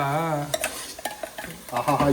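Onions sizzle in a separate tempering for biryani while a spoon clinks and scrapes against the pan in short, quick strokes. A voice is heard briefly at the start.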